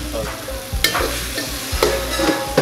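Masala frying in a pan at a Warangal restaurant kitchen, with a constant close sizzle and repeated sharp scraping strokes of a spoon stirring, about one stroke per second, with no voices.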